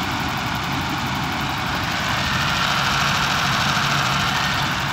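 A BMW V12 engine idles steadily after a cold start, a continuous close, even hum with a broad hiss over a low rumble and no voices.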